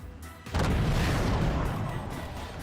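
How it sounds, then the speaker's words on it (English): A BB cannon fires in the strategy game Forts, a heavy boom that breaks in after a brief lull and rolls on as a loud, sustained rumble to the end. "BB cannon, yeah."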